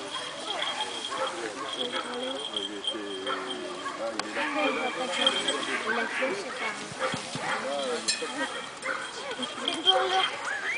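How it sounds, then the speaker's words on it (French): A firefighters' dog barks repeatedly amid a busy background of people talking, the barks mixed in with the voices at moderate distance. "Il signale par son aboiement qui est très important qu'il y a quelqu'un"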